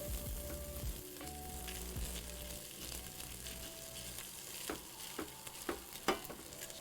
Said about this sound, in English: now we know that we're toasting the rice